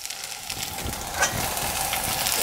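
Chili and garlic mix fries in hot oil in a pan for drunken noodles, making a steady, close sizzle with a faint crackle that holds evenly throughout, with no talk.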